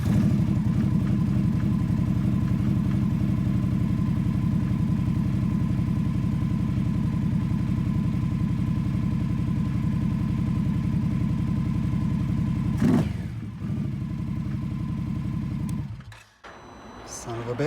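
An Indian Scout motorcycle engine, checked for a check engine light fault, runs at a steady close idle for about thirteen seconds, then cuts out with a brief sputter and shuffling before a short restart near the end.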